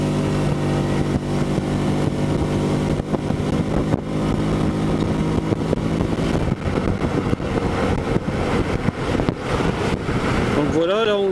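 A Piaggio Spazio 250 scooter engine with a reground camshaft drones at a steady pitch, rising as it revs and pulls away, with wind rushing across the microphone.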